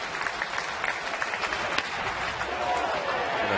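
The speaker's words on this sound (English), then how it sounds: "Everybody up, clapping on their feet." Baseball stadium crowd on its feet clapping, a dense, sustained wash of applause that swells slightly toward the end, with a faint voice above it.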